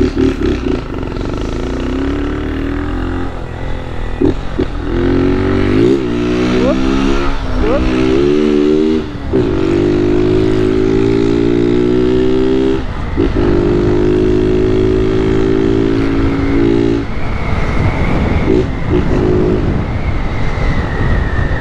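Honda 160 motorcycle engine revving hard and loud up close, pitch rising and falling through repeated throttle blips with crackling exhaust pops, running continuously throughout.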